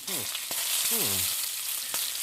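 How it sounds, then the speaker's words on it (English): Steady hiss and crackle like bacon frying runs throughout, with a few gliding, tonal squeals layered over it. "Why are the tapes sizzling like they're being fried in bacon?"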